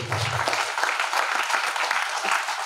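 An audience applauds the state manager at a business gathering, a dense, even burst of many hands clapping loudly and steadily throughout, with a voice briefly fading out at the very start.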